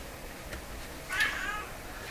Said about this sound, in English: We have another cat visitor here right off the bat